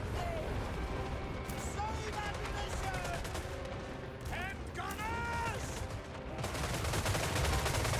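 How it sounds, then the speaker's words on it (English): Massed gun volleys in the fantasy battle strategy game Total War: Warhammer III, heard as dense, continuous crackling gunfire over a busy battlefield din, with someone talking over it. "Look at those massed volleys."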